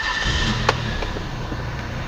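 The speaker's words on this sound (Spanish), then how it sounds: "Este carro arranca perfectamente. De hecho, ahorita ya lo tenemos arrancando." A 2000 Nissan Altima with an intermittent stalling fault idles steadily, a constant low engine drone with a faint whine and one sharp click partway through, no voices.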